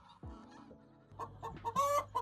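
Chickens on a large farm compound in Nairobi cluck and squawk in quick, faint bursts, with several birds calling close together.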